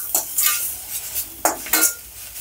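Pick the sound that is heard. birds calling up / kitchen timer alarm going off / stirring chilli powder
stirring chilli powder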